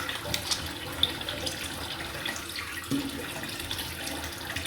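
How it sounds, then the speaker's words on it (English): Hot water drains from a bathroom sink basin with a steady, quiet gurgling rush and a few soft glugs. It is close by and heard on its own, without talking. "You're going to glug glug glug now because I'm releasing hot water from the basin."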